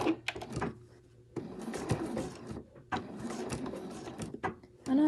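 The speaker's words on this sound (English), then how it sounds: "I'll just stitch about 1/2 centimetre in from the edge just to hold that in place." Sewing machine stitching a fabric bow in place about half a centimetre from the edge, with close, loud bursts of rapid mechanical whirring that stop and restart several times.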